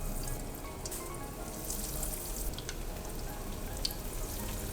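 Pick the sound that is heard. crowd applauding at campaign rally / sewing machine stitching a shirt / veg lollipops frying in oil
veg lollipops frying in oil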